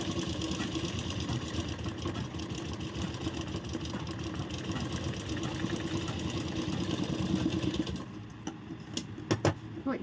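A sewing machine stitches the lining of a blouse, running in a continuous steady whir for about eight seconds before stopping, followed by a few light clicks and handling sounds.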